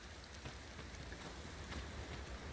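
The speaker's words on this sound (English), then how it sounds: "Mind the rain, Master." Steady rainfall in the video game Dragon's Dogma 2, a dense, even hiss of drops pattering on surfaces that holds at a constant level throughout with no voices over it.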